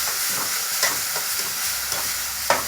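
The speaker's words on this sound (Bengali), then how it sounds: "আদা বাটা আর জিরে বাটা, সব একসঙ্গে দিয়ে নাড়তে থাকবো" Ginger and cumin paste sizzling in a pan under steady stirring, a dense close hiss broken by soft scrapes and a sharper knock near the end, with no voices.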